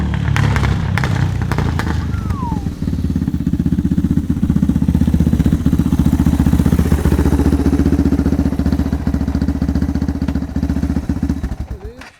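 Yamaha R3 motorcycle engine running close by, a steady throbbing idle that holds for most of the stretch, with a voice briefly heard at the start.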